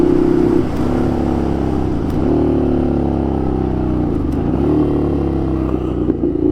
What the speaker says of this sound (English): if we just pull in the clutch and switch gears down